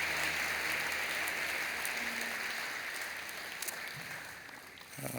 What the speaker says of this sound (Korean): 크게 박수로 환영하시죠